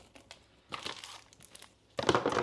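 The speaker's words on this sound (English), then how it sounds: "I'm not going to waste your time here on taking them all out of the wrappers" Airheads candy wrappers crinkle and tear as the taffy candies are unwrapped, in a few close, sharp bursts separated by short pauses, with the loudest burst at the end.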